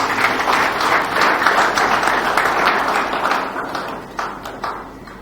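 An audience in a hall applauds deputies and senators at an official launch event. The clapping is dense and sustained, then thins into scattered, fading claps.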